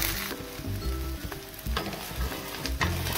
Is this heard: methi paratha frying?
yes